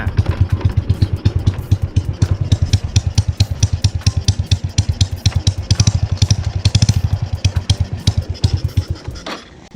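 A modified 110cc motorcycle engine, an older model fitted with a performance cam and aftermarket exhaust, revs hard and loud up close with a rapid, crackling pulse that holds steady, then cuts off abruptly at the end.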